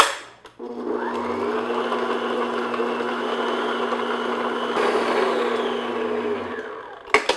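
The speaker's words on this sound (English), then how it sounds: "I'm going to beat these two ingredients together until they're nice and mixed together" An electric hand mixer beats butter and sugar at medium-high speed for pear frangipane tarts, a loud steady whirring drone close by that starts after a brief pause and cuts off near the end with a couple of clacks.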